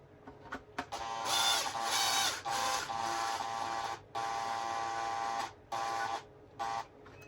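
Small screws driven with a powered screwdriver into a Tamiya RC dump truck during a linear actuator install, heard as a series of close, loud whirring bursts of a few seconds each, separated by brief pauses.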